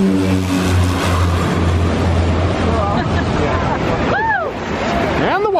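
Waves wash in at Maho Beach on St. Maarten, a steady broad surf rush with wind buffeting the microphone, while people talk over it and a low engine hum sits underneath.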